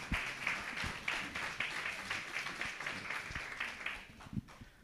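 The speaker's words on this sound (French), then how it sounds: "je crois qu'on peut l'applaudir pour le remercier." An audience applauds astrophysicist Hubert Reeves at a lecture, a quiet, distant-sounding patter of many hands with a few closer sharp claps, fading out near the end.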